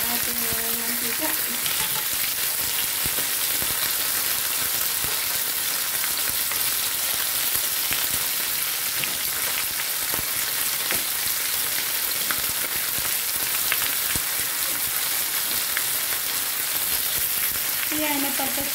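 Fish pieces fry in hot oil, a loud, steady close sizzle with constant crackling and popping throughout, with a few faint voice sounds at the edges.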